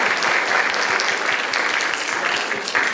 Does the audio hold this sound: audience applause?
yes